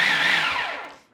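A food processor whirring through one short pulse of chopped liver with schmaltz, a loud close motor whine that starts at full speed and spins down to silence within about a second.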